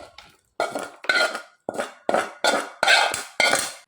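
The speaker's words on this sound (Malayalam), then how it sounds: "ഇനി എല്ലാം കൂടെ മെല്ലെ ഒന്ന് ഇളക്കി കൊടുക്കുക" Plum cake batter with dried fruits is stirred in a bowl, about eight short scraping strokes in an uneven rhythm, close and fairly loud, with no talking.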